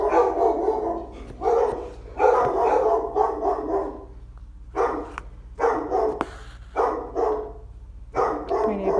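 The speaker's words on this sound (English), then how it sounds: "Oh, there goes the big dog." A big dog barks repeatedly at a middle distance, a steady run of deep, loud woofs in uneven bursts with short pauses between them, probably at a passing delivery truck.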